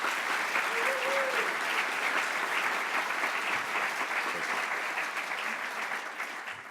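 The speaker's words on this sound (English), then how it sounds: "Let's give them a round of applause." Steady, dense applause fills a conference hall as a national security forum audience claps for the program's directors, sustained and even throughout, with a brief voice near the start.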